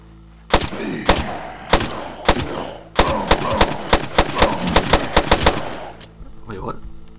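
Rapid bursts of automatic gunfire from shooting zombies in the post-apocalyptic survival game Land of Silence, with a few sharp shots followed by a dense rattling volley that stops abruptly, loud and close.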